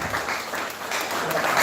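An audience at a Nigerian Christian youth gathering in Langtang North claps together in a dense, continuous round of applause, fairly loud and close, without speech.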